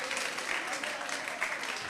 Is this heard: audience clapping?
yes